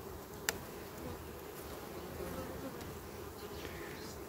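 Honeybees at an opened beehive colony, a low, steady, diffuse buzzing of many insects throughout, faint and continuous, with one brief sharp click near the start and no speech.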